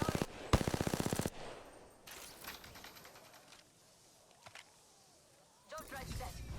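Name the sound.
gunfire in the video game Apex Legends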